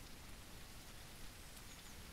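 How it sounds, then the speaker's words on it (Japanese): Steady rain falling in the survival video game Jaws Of Extinction, a continuous soft hiss of drops with no breaks, faint and even throughout. "雨だな今日。"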